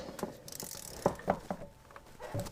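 A ratchet wrench loosening a 14 mm bolt on a car starter, with a few quiet, irregular clicks and metallic ticks, close but faint, no speech.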